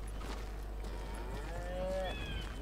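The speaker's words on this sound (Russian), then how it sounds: "Есть, видите, стоят коровы," Cattle low in the Call of Juarez: Gunslinger video game, a faint, drawn-out moo rising and falling over a steady low hum, with no talking.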